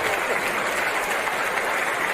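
A comedy show audience breaks into applause, a dense and even roar of clapping hands that holds at a steady level for a couple of seconds with no gaps.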